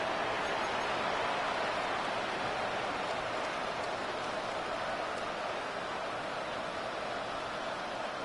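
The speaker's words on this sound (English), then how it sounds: "The rain set to continue as we are underway in the second half." Steady rain pours over an NFL football stadium in an EA Sports video game during the second half, a dense, even hiss that stays constant and loud throughout with no voices.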